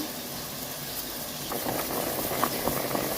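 A pot of fish soup simmers at a steady boil, its bubbling and popping a continuous close wash that grows slightly louder and busier partway through.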